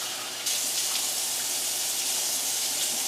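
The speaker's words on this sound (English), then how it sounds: "I just rinse these out with a little bit of water to get the seeds out" Tap water runs steadily into a sink to rinse the seeds out of halved bell peppers being prepared for stuffing. A quiet start gives way to a sudden, continuous close splash and hiss that carries on without a break.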